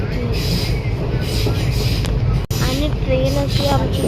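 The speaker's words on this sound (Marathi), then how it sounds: "आणि ट्रेन अशी आमची चालली आहे." A moving passenger train rumbles continuously, with wheel and carriage noise and faint squeals heard from inside, broken by one sharp click partway through.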